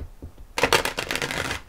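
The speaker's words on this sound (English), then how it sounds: "the ripple shuffle" A deck of cards riffled together in a ripple shuffle, a quick close burst of crisp fluttering snaps lasting about a second after a few faint handling taps.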